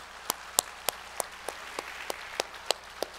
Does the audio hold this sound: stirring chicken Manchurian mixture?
no